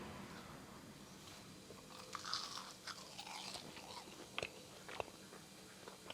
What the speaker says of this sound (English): They both have that good crunch.